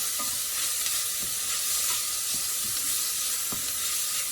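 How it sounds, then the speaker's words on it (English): Food for a white bean and spinach soup is stirred in a hot pan, giving a dense, even sizzle overlaid with steady, repeated scraping strokes, close and loud. "So I'm just constantly stirring it so nothing sticks to the pan."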